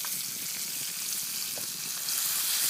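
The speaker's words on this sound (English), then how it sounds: "Just going to stir this up here. It's a little hot." Food frying in a hot pan over a fire gives a steady, dense sizzle, close and fairly loud, with faint stirring scrapes and no voices.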